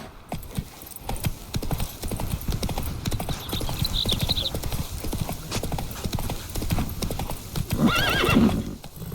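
Geralt's horse Roach in The Witcher 3 trotting, a rapid, steady clip-clop of hooves close by with jingling tack, ending in a loud whinny near the finish.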